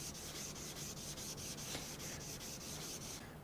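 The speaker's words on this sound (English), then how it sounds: "I love these ceramic stones. They do a fantastic job at cutting." A chisel sharpened on the 800 grit side of a ceramic whetstone, giving quiet, steady rhythmic scraping strokes back and forth with no talking.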